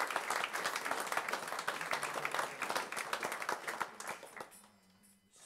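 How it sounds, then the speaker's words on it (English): A concert audience at a brass band performance applauds a player with a dense, even round of clapping that carries for several seconds, then thins out and fades, leaving a low hum. "In fact, one more round of applause,"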